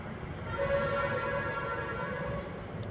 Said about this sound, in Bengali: সবসময় ট্রেন আসতে থাকে এখানে।